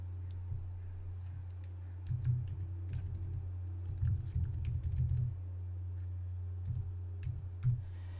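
Computer keyboard typing for digital scrapbook journaling, quick irregular clicking bursts over a steady low hum, fairly faint and close.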